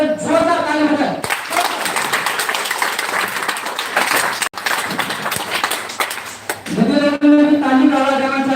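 A crowd at a health awareness programme claps loudly in sustained applause for several seconds between stretches of a speaker's voice.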